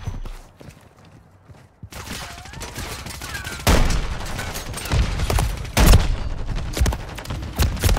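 Gunfire in Call of Duty: Modern Warfare 3 multiplayer, with bursts of rapid automatic shots and sharp single cracks scattered across the clip, louder volleys arriving in the second half over a busy background of game effects.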